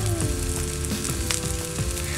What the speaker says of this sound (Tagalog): nagpiprito-prito na siya